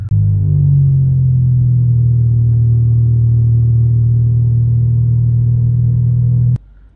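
A Honda Civic's engine drones steadily and loudly from inside the car while driving, a constant low rumble that holds for several seconds before cutting away abruptly.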